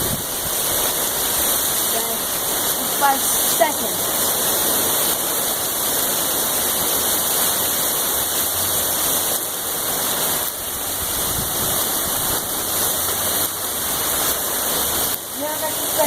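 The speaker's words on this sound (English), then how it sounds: "A sudden downpour. Look at it. Look how flooded it's getting in a matter of like 5 minutes." A sudden heavy downpour in Wisconsin floods the ground, producing a dense, steady roar of rain and rushing water throughout, with someone speaking briefly over it.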